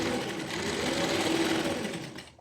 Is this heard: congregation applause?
no